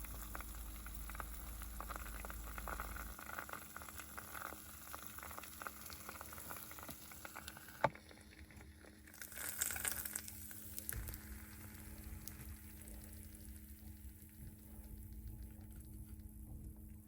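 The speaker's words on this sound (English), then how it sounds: "here I'm making a bacon, egg, and cheese waffle sandwich" A bacon, egg and cheese waffle sandwich cooking in a waffle maker inside a Winnebago Revel camper, giving off a steady, quiet sizzle and crackle that swells briefly partway through, close by and with no voices.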